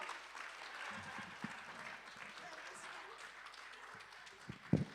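Live poetry jam audience clapping for poet Joe Perry: a steady wash of applause throughout, with a few louder knocks and thumps near the end.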